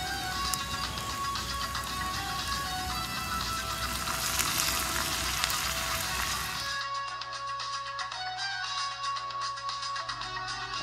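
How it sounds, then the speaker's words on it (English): Cut-up steak sizzles loudly in a pan as honey brown ale is poured in, a dense crackling hiss that suddenly drops to a quieter, thinner sizzle with a low steady hum partway through. "And of course our cut up steak. Now add our beautiful beer."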